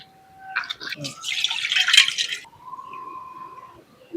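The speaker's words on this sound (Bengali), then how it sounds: "এইভাবে কিন্তু চটকে চটকে ধুয়ে নিতে হবে।" Sago pearls are squeezed and washed by hand in a bowl of water, producing close wet squishing and sloshing that builds over a couple of seconds, then stops, followed by a faint tonal hum.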